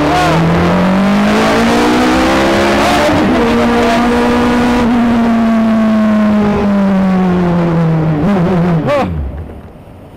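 An Indy race car at high speed, its engine a loud sustained whine that slowly falls in pitch, then brief rapid downshift blips near the end before the sound drops away.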